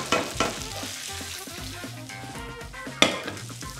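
Tom yam pasta sauce stirred in a pan over high heat, with a steady sizzle of frying under repeated scraping and clacking strokes, and a sharper clank near the end.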